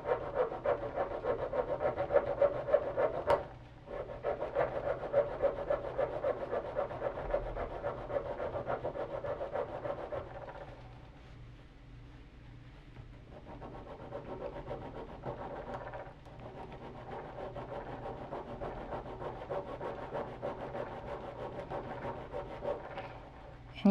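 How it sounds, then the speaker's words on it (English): Steady abrasive rasping of sanding down a metal button shank, continuous and close, easing briefly partway through before resuming at a similar pace. "I'm just gonna keep sanding."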